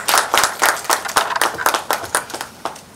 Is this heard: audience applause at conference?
yes